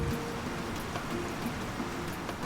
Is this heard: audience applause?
no